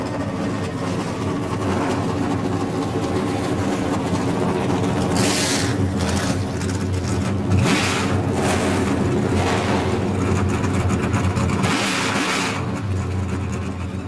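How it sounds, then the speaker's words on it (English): NASCAR Camping World Truck Series engines fired up and idling together at Pocono in 2013, a loud continuous rumble with several sharp revving bursts from individual trucks over the steady drone. "Drivers, start your engines."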